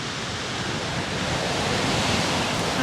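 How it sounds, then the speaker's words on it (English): Large ocean waves crash on a beach in wind, a loud, dense, continuous roar of surf with steady wind rush. "How huge the waves are."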